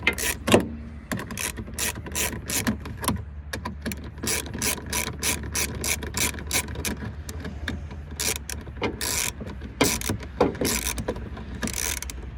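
A ratchet wrench tightens bolts while aftermarket headlights and a grill are installed on a car, giving close, rapid clicking bursts in quick repeated strokes with short pauses between them.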